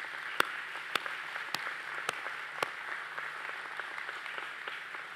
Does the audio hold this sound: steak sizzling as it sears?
no